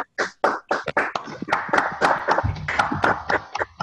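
Applause from a small audience at a comedy show, with sharp separate claps in an uneven rhythm close by and a brief low murmur partway through.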